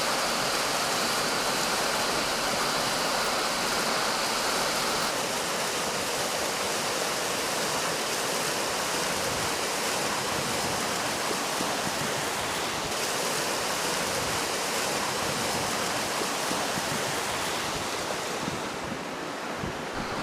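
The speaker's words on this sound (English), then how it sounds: "the east branch of the Rocky River, she's flowing pretty nice" The east branch of the Rocky River at Hinckley Lake flows in a steady, broad rushing wash, close and constant, with a faint shift partway through and no voices.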